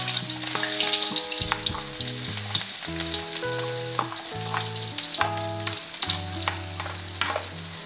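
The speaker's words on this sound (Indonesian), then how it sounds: "Nah, ini minyaknya sudah panas. Saya mau masukkan dulu bawang merah dan bawang putihnya ya." Shallots and garlic sizzle in hot oil, the base for stir-fried water spinach: a steady, dense crackle with scattered pops that lasts throughout, mixed with background music.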